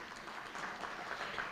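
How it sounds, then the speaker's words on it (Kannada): Faint, distant applause from an audience at a Yakshagana cultural program, a soft continuous patter of many hands held at low level without any voice over it. "ಸ್ವಲ್ಪ ಚಪ್ಪಾಳೆಗಳು ಬೀಳಬೇಕು"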